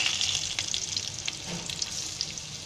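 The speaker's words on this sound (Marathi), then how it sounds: "आता त्याच्यामध्ये आहे ना हे सगळं हे लसूण टाकते, हे तेजपत्ता आहे" Garlic and bay leaf frying in hot oil for a tuna fish biryani, giving a steady, close sizzle with crackling spits throughout and no talking.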